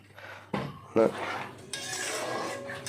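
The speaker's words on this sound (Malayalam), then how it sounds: "നന്നായിട്ട് ഇളക്കുക." Beetroot pickle with vinegar being stirred in a pot: a spoon clanks and scrapes against the metal several times in a short, uneven burst, close and moderately loud over faint kitchen background.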